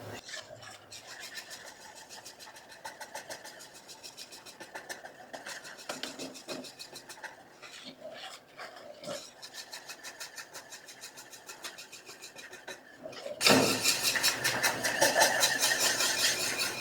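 A spoon scrapes steadily around a pot of thickening homemade chocolate pudding, a fast rhythmic rasping that carries on throughout and turns louder and harsher in the last few seconds.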